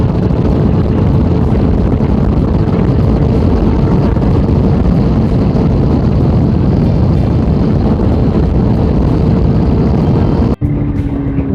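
A Honda CBF600S motorcycle ridden at speed on open South African roads gives a constant droning roar buried in heavy wind rush, unbroken for the whole stretch, with a brief drop near the end.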